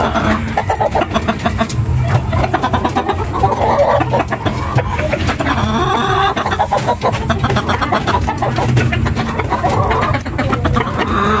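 Talisayin gamefowl roosters cluck continuously and loudly close by, a dense chorus of overlapping clucks with no talk over it.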